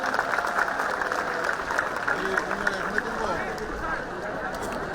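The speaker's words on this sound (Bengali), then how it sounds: "আমরা ম্যাডামকে করতালির মাধ্যমে অভিনন্দন জানাই" Audience applause at a Bengali college event welcoming a professor, the head of the Bangla department at Notre Dame College: sustained, even clapping from a crowd, with a voice speaking over it.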